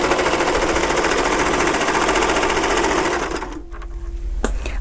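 An overlock machine runs a narrow 3-thread gathering stitch at its longest stitch length, gathering fabric with a loud, steady, rapid mechanical whir. The motor stops after about three and a half seconds, followed by a short hum and a click.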